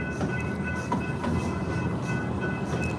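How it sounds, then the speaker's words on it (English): A Kennywood Park ride train rolls along steadily with a continuous low rumble and faint rattling, loud and close, with no talk over it. "We're taking a ride on the train."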